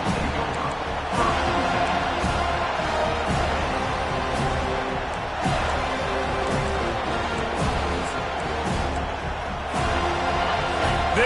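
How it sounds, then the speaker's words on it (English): Stadium crowd at an FSU vs Virginia Tech college football game roars continuously and loudly, with a dense, unbroken wash of cheering and shouting throughout. "This crowd bringing an ear-splitting welcome to their visitors."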